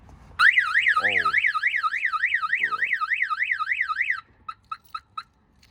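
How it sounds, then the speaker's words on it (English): A car alarm on a Honda D16 Civic on steel wheels wails loudly in a rapid rising-and-falling siren for about four seconds, then cuts to a few sharp separate chirps with quiet gaps between. "Forgot the alarm was on the car."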